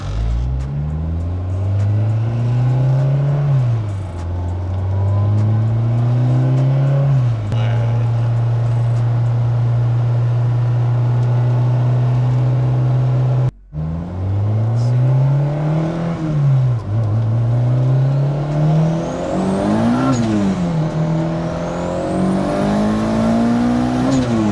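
A 1992 turbocharged Honda Civic EG hatchback drives with a loud engine close by, revving up and down through the gears with a long steady pull and a brief dropout midway, turbo whistle rising on top, and a person talking over it.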